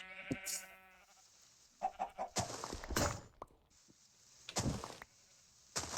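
Chickens in a blocky sandbox video game cluck in short, separate bursts with gaps of quiet between them, fairly close and alone without talk, sometimes mixed with higher squawks.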